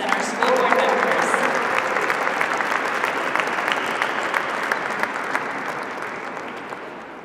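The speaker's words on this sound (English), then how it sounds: "Another big round of applause to our students and our school board members." An audience breaks into loud, sustained applause at a Lunar New Year event, a dense steady clatter of clapping that slowly tapers off.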